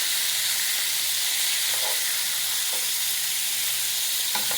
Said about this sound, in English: Now this being stir fry, you gotta stir it